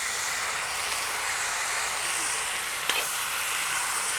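Chopped tomatoes hit a hot crab masala gravy and set off a steady, broadband hiss of sizzling, close and even throughout, with one brief knock near the end and no voices.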